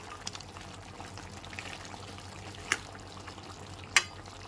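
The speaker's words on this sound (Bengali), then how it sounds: "ভালো করে একবার নেড়ে নেব।" Spiced curry frying in oil in a pan while being stirred, a soft steady sizzle with two sharp scraping clinks of the spoon against the pan, no talking.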